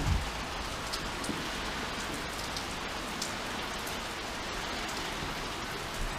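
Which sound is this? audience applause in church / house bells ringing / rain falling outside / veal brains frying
rain falling outside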